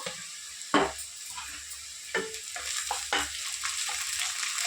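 Onions sizzle and fry in hot oil as ginger-garlic paste is stirred in, a steady close crackle with a few sharper bursts as the mixture is moved around the pan.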